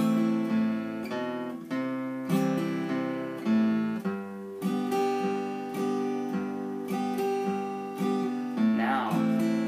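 A slow guitar melody moves note by note over sustained lower bass notes, each pluck ringing out and fading before the next, clear and unhurried.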